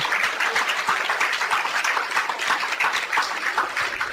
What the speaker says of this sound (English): The students are also clapping.